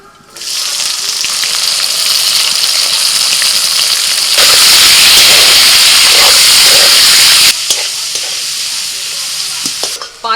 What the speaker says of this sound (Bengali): ফোড়ন থেকে ভাজার একটা সুন্দর গন্ধ এলে দিয়ে দিচ্ছি পেঁয়াজ কুচি